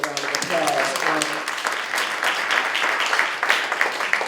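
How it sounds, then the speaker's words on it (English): Audience applause at a roundtable event on justice, crime and punishment, a steady wash of clapping from a crowd lasting several seconds, with a voice faintly audible beneath it. "let's give them a round of applause"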